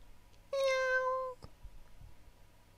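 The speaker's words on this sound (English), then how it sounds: "Meow." A single close, clear cat meow, drawn out for nearly a second, is followed by quiet with faint small knocks.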